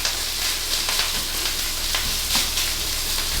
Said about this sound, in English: And there's that instant sizzle.